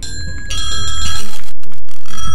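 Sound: doorbell ringing in a GTA 5 video game

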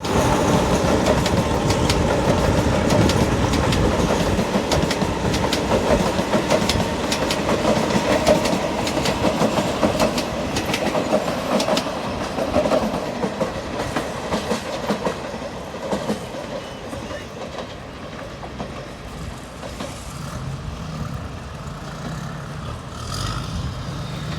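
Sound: GEK 4031 diesel locomotive hauling a southern line train

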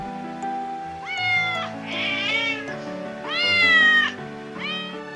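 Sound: little black cat meowing

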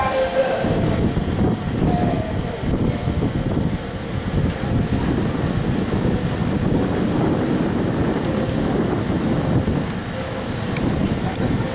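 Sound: Southern Electrostar 377 electric train departing station

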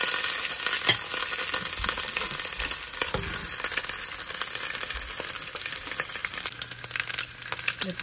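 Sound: pork chops frying in a large pot

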